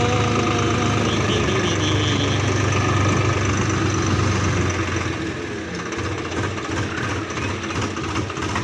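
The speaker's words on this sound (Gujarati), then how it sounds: "તો રિવર્સ કર્યું ટ્રેક્ટર" A tractor hitched to a groundnut-sowing machine idles in a farm field at monsoon sowing time, a steady, close, knocking engine chug that eases slightly in level toward the end.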